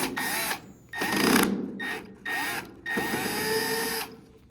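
Power driver removing screws from a Whirlpool oven door hinge, whirring in four short bursts of about a second each, separated by brief pauses, close and fairly loud with no voices.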